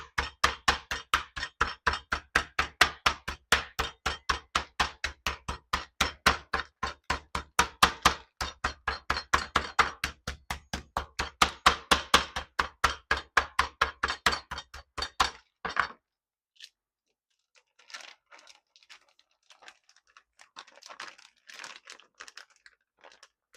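Chicken breasts pounded flat in a Ziploc bag, a long run of rapid, even thuds close by, about three per second, then stopping abruptly and leaving only faint crinkling of the plastic bag.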